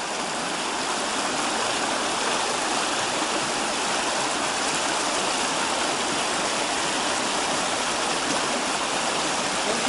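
Water pours steadily while a man's body is washed, a loud, continuous hissing splash that stays close and unbroken throughout.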